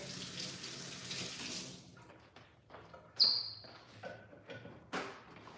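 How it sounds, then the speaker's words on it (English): Running tap water splashes steadily as hands are rinsed at a kitchen sink while making ravioli, a broad rushing stream that thins after a couple of seconds into intermittent splashes and clinks. "I'm gonna rinse real quick."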